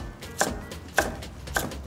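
Three sharp knife strokes chop sweet potato into small cubes on a cutting board, spaced about half a second apart, close and clear with no talking.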